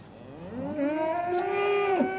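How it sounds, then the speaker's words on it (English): A cow on a farm in Ukraine lets out a single long, loud moo that rises and then drops off sharply at the end, close and alone. "See how the cow is eating nicely."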